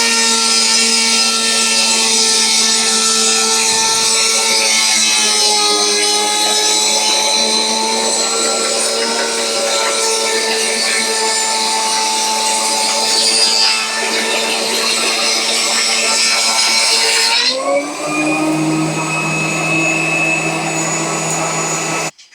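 A thickness planer runs steadily while planing wood at feed speed 1 with a maximum 3.2 mm cut: a loud, continuous high whine with strong harmonic tones that holds for most of the run, then the pitch shifts abruptly near the end.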